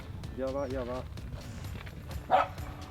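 During a blood-tracking search for a wounded red stag in Spain, a tracking dog gives a short whining bark, then a louder yelp later. Both sound fairly close. Quiet voices and rustling are heard in between.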